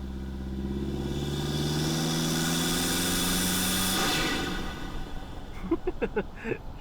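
A Honda CR-V 1.5T engine with an MST Performance intake hums with a steady rising drone under acceleration, then the sound drops away and brief voices and knocks follow close by.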